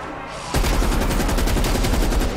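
An RPD machine gun in a zombie game opens up after a short quiet lead-in, firing a fast, steady, loud burst of rapid shots that continues to the end without pause.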